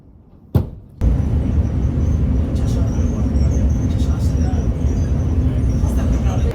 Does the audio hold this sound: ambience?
yes